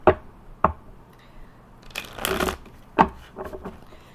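Tarot cards being shuffled by hand, with a few sharp riffling snaps and a longer burst of brisk card rustling in the middle, close up with no talking.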